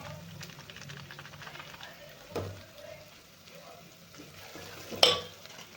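Spices with turmeric and shop-bought sambar masala being sautéed and stirred in a pan for sambar, a low steady sizzle with soft scraping and a sharper clink near the end.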